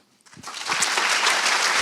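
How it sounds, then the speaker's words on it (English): Audience applause after a conference talk on performance testing, starting faintly and swelling within half a second into steady, sustained clapping from a full room. "Once again, big round of applause."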